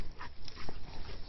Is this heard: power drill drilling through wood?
no